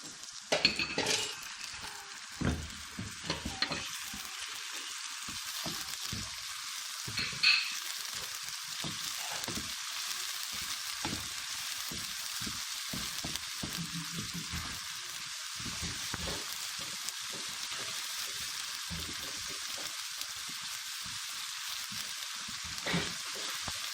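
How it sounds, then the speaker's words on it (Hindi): Ginger garlic paste sizzles and fries with onions in a pan, a steady loud crackling hiss throughout with occasional clinks of a stirring utensil against the pan, no voices. "अदरक लहसुन का पेस्ट डाल देंगे।"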